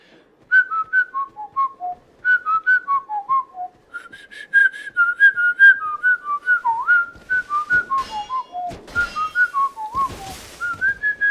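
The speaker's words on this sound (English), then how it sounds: "let me just do some extended whistling, and see if you can tell when it switches from out to in whistling" A person whistles a long wandering melody, switching between outward and inward whistling, in clear separate notes, close and fairly loud, with breathy noise growing toward the end.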